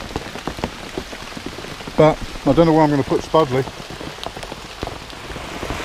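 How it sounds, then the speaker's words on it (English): Heavy torrential rain drums steadily on a DIY canvas rain-cape tent, a dense continuous patter throughout, while someone speaks briefly in the middle. "There's something about the sound of rain on canvas."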